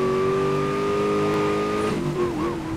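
Dom's Charger from the Fast and Furious pack in Need for Speed Most Wanted roars in a steady, loud, droning engine note that holds and then wavers as the revs shift near the end, with a voice briefly audible.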